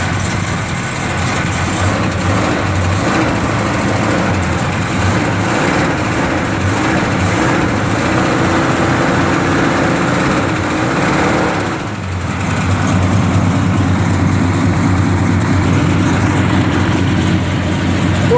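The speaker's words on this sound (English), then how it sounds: "A little bit of an exhaust leak through these headers." A 1969 Dodge Coronet Super Bee with a matching-numbers engine idles steadily and loud, with a leaking header exhaust adding a raspy ticking to the continuous rumble for the whole stretch.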